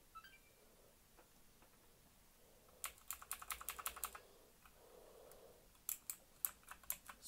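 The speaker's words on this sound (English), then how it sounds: "Really cool keyboard for my Xbox." Typing on an Xbox computer keyboard: two quick bursts of crisp, close key clicks in a quiet room, separated by a pause, with no talking.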